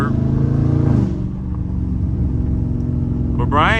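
A Dodge Charger Scat Pack engine rumbles and revs while drifting through a turn, a loud, close throaty growl with rising pitch sweeps, and someone talks over it.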